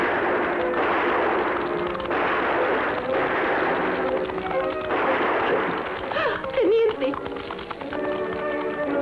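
Gunshots in a Spanish-language Western radio drama, several sharp cracks over a continuous band of background sound.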